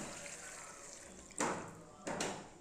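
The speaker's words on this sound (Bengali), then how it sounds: "এইবার এর মধ্যে সামান্য জল অ্যাড করব" Water poured in two short splashes into a pan of cooked, browned chicken, each burst rising sharply then fading, following a quiet, steady background.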